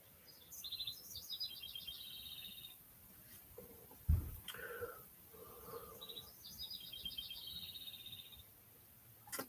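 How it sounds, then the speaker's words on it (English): Birds chirp in bright repeated trills, one burst early and another later, with a quiet pause and a brief thump between them. "I can hear the birds chirping."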